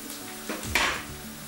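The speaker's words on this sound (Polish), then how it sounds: "żeby tutaj w środek wrzucić nasz karczek, który teraz musimy z naszą cebulką obsmażyć we wszystkich stron" Pork neck goes into a frying pan of browned onions: a brief metallic clatter of utensil against pan over a soft background sizzle.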